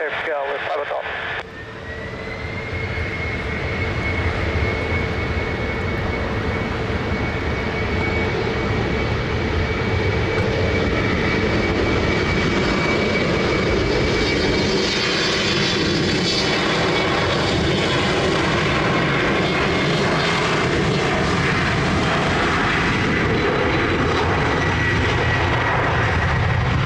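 An airliner approaching runway 20 at Lisbon Airport, its engine roar steady and loud throughout with a sustained whining tone, while radio voices talk over it.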